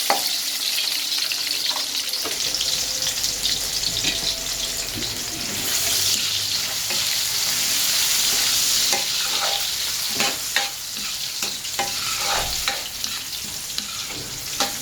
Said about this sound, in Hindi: हल्का सा सौते कर लेंगे चीज़ों को